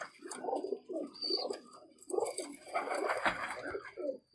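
A Teddy pigeon in a loft coos in a steady run of low, rounded throaty phrases, close and fairly clear, repeating with short pauses.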